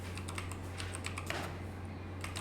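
Quick bursts of typing on a computer keyboard while writing code, crisp close key clicks in irregular clusters over a low steady hum, no talking.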